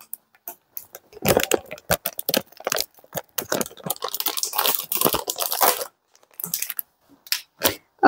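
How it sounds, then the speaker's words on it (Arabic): A plastic bag of whipped cream powder is torn open by hand in a home kitchen, a close run of crisp crinkling, crackling and rustling bursts with short pauses between them. "اهو فتحنا الكيس"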